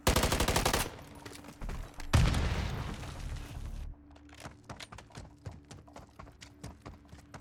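Loud rapid automatic gunfire in Call of Duty MW3 multiplayer opens with a sharp burst and a heavy boom, then gives way to quieter, evenly spaced shots and footstep-like clatter further off.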